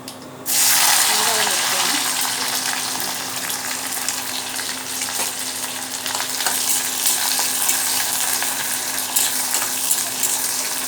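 Dense crackling and sizzling of mustard seeds popping in hot oil, steady and close, with a low hum underneath.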